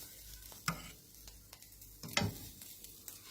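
Fish meat and fish roe dry-roast in a pan with a faint, quiet sizzle, broken by a few distinct scraping stirs of a utensil against the pan.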